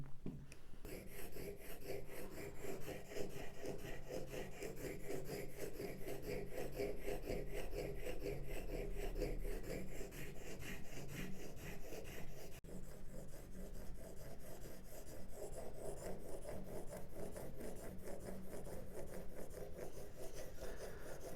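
A woodworking gouge is worked on a sharpening stone, giving a steady, continuous rasping and rubbing that carries on alone without pause, close and moderately loud.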